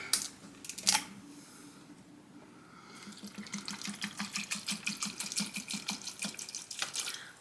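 Apple cider pours into a pot in a rhythmic glugging stream from the bottle, with rapid repeated gulps after a couple of louder knocks at the start, close and with no voice.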